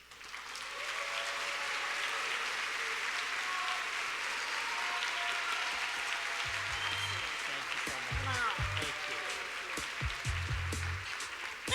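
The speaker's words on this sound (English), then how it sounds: "Let's give him another round of applause" A conference plenary audience applauds after an inspiring leader's speech, sustained dense clapping from a large crowd heard at moderate distance, steady throughout with a few louder individual claps and faint voices near the end.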